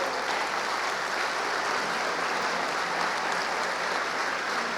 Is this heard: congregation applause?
yes